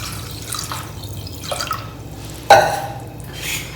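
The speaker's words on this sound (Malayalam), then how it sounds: "ഇനി ഇതിലേക്ക് 2-ാം പാലും 3-ാം പാലും ഞാൻ ഒഴിക്കാം കേട്ടോ." Second-press coconut milk is poured into a pot of pazham pradhaman, a banana payasam, with a few distinct close splashes and drips, one sharper splash standing out midway.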